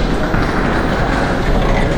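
A Moscow metro train rumbles loud and close at a green line station, a dense, steady roar of wheels and motors filling the whole stretch.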